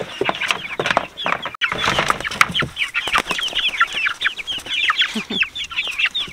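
Backyard chickens at an off-grid Alaska homestead cluck busily, a rapid stream of short overlapping clucks and murmurs from several birds close by, with a few louder squawks scattered through.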